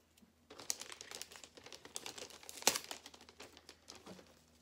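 Close, steady crinkling and tearing of paper as wrapping is pulled apart, with one sharp rip near the middle, in a quiet room.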